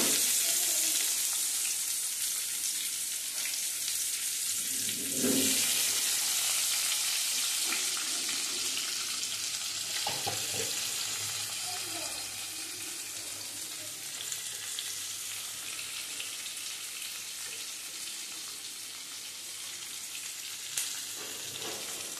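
Chopped onion dropped into hot oil already seasoned with four cardamom pods, a cinnamon stick, four cloves and a bay leaf, sizzling steadily and close by with a few stirring clatters and no talk.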